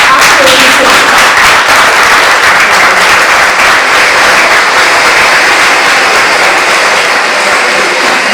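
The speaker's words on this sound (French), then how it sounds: "Applaudissez." Loud, dense applause from an audience at an NGO's fifth-anniversary celebration, continuous clapping sustained evenly for the full stretch without letting up.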